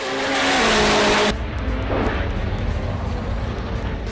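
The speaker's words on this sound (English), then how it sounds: "one of the riders suddenly crashes into the other at full speed" Drag bikes crash at about 300 km/h, a loud, harsh engine roar with a screeching skid that cuts off abruptly, then gives way to a lower, rougher rumble and scattered noise.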